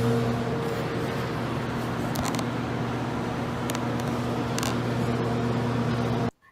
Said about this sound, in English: Now time to microwave it till it's the consistency of jerky and soggy all at the same time